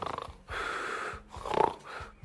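A comedian on stage imitates a man snoring in a cinema hall with his voice: slow, rough, rasping breaths and snorts in a steady rhythm, close and fairly loud, with no talk over it.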